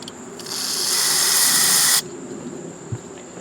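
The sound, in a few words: aerosol spray into lawn mower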